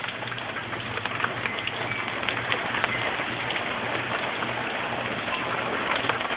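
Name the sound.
rain during Tropical Storm Isaac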